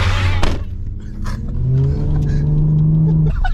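A car pulls away, its engine revving and climbing steadily in pitch as it accelerates, loud and close at first against a rumbling background.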